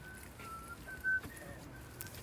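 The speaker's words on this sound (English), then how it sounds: "You're whistling at the wrong spot." A thin, steady whistled tone with a few breaks, faint and somewhat distant, over quiet outdoor ambience.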